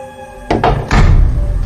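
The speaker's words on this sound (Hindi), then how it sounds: "ये दरवाजा कैसे बंद हो गया?" A door in a supposedly haunted house swings shut on its own: two quick wooden knocks, then a heavier thud into the frame, close and sharp after a quiet room tone.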